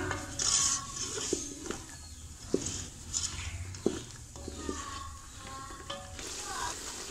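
Tomato paste being stirred into black chickpeas in a pan: scattered spoon scrapes and clinks against the metal, soft wet patter and light sizzle underneath, irregular and close, with faint background sounds.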